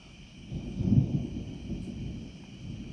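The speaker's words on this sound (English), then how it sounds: "Yeah, there's some nice thunder coming down." Thunder from an approaching storm rolls in as a low, distant rumble that builds and peaks briefly and then lingers faintly.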